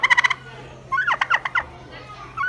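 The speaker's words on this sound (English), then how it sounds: "You want to make a gobbling sound?" A farm turkey gobbles in quick rapid bursts, a short rattling series followed by a longer warbling run, heard close and clear with no talking over it.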